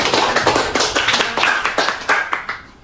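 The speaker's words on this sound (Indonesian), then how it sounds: "Tepuk tangan." A class applauds together, dense clapping from many hands in steady bursts filling the whole moment, no voices over it.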